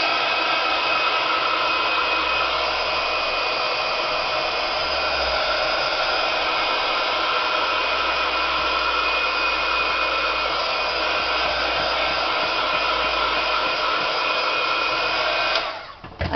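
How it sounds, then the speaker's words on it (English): A heat gun blasts hot air over a craft piece in one loud, continuous, steady roar held close for about sixteen seconds, then cut off abruptly at the end, with no talking. "I'll stick with the heat gun"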